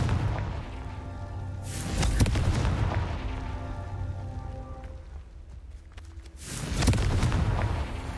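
Two heavy booming blasts from the Confringo fire spell in the Hogwarts Legacy video game, each a loud broadband burst with a rumbling tail, about five seconds apart, against a low background drone.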